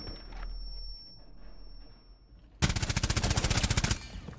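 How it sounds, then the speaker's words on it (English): A flashbang grenade goes off in the Rainbow Six Siege video game: a quiet stretch with a thin ringing tone, then a sudden loud burst of rapid, pulsing crackle that carries on to the end. "Oh jeez, flashbang."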